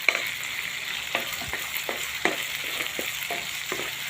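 Okra fries with onion and tomato in a pan, giving a continuous close sizzle broken by repeated scraping and stirring knocks at an uneven pace.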